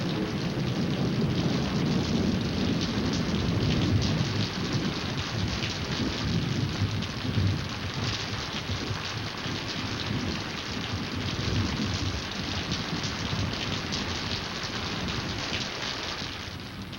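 Heavy rain falls steadily with low rumbles of thunder rolling underneath, a dense continuous downpour with no voices.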